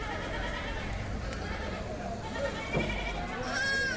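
A goat kid bleats at a busy goat market in Kalampur, a thin call rising near the end above steady crowd murmur and voices.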